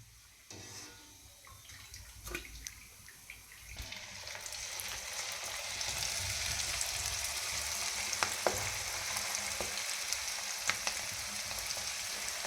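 Cabbage pakoda pieces sizzle and crackle steadily in hot oil, with a broad continuous frying hiss that swells after the first few seconds, punctuated by faint scrapes and clinks of utensils.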